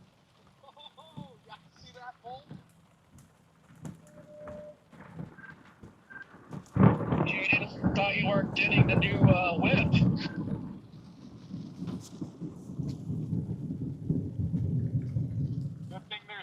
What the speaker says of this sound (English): That was a good bolt.